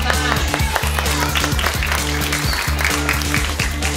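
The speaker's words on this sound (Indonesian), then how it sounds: "Ya, tepuk tangan." An audience at a children's pantomime and art show applauds, a moderate round of clapping over a low steady hum, with scattered individual claps standing out.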